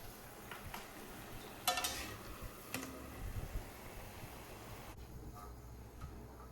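Chettinad murukku fries in a pan of coconut oil, giving quiet, sparse crackles and ticking pops as the sizzle dies down, with a few sharper clicks and no talking.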